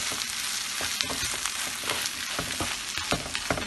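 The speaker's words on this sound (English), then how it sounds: "then we mix everything together" Cabbage roll filling stirred together in a hot pan, steady sizzling and frying with repeated scraping stir strokes, close and continuous.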